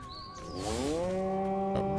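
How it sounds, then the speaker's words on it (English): A cow in Destroy All Humans gives a single drawn-out moo, rising then holding steady, clear and close over a soft background. "All the cows are saying moo."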